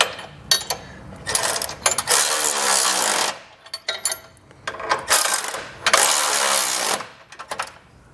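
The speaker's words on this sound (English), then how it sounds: "We'll then switch out to a 15/16 size socket and wrench and do these two." A 15/16 socket and ratchet wrench tightening the bolts of an EcoHitch hidden front-mount trailer hitch receiver, heard as several loud, buzzing ratchet bursts close up, separated by short pauses.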